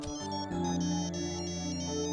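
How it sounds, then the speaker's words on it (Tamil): A phone rings with an incoming call, its electronic ringtone melody sounding steadily and loud through the clip, with no voices. "சார், ஆதியோட ஆட்கள் தான் ஃபோன் பண்றாங்க."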